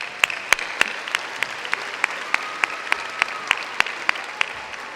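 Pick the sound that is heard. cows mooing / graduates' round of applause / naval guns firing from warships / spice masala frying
graduates' round of applause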